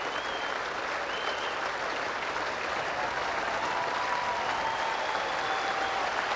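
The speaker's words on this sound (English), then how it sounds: "Standing ovation from the crowd here at the WACA." Cricket crowd at the WACA giving a standing ovation, broad steady applause with no pauses, distant and continuous, with a faint whistle-like tone drifting over it.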